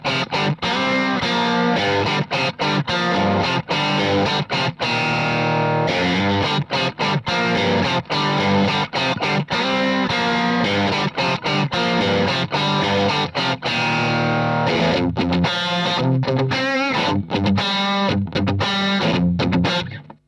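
Heavily distorted electric guitar run through a BluGuitar Blubox with vintage amps, playing loud, dense chugging riffs with rhythmic stops and sustained chords, saturated and close throughout, with no talking.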